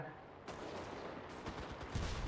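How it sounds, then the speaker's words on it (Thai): Gunfire in the World War II shooter Enlisted comes as a few sharp shots and short bursts. They are fairly faint and sit over a steady, noisy battle background. "มันยิงข้ามหัวกูเลย"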